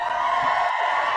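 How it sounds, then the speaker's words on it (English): Studio audience at a live show welcoming a guest, a continuous close crowd roar of cheering and whoops that holds steady for the whole short moment. "let's give Blazenka Bradley a round of applause"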